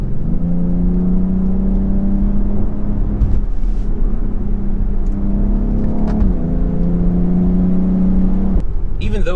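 A BMW X3 M performance SUV in Sport Plus mode pulls through the gears, its engine droning loud and near with rising revs and a few shift breaks, while someone talks over it.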